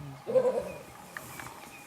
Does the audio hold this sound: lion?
yes